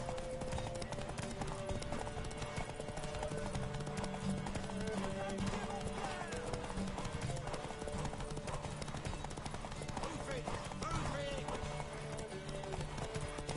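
Rhythmic hoof clip-clops of a horse beneath a dense, busy mix of music and voices, with talking heard throughout.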